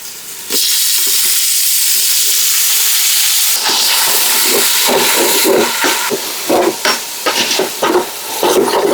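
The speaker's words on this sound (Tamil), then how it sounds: "வெங்காயம் தக்காளிக்கெல்லாம் நல்லா வதங்கிட்டு இருக்கு." Onions, tomatoes, green chillies and ginger-garlic paste fry in a pan for a beef nalli gravy, with a loud, close, continuous sizzle broken by scraping stirs.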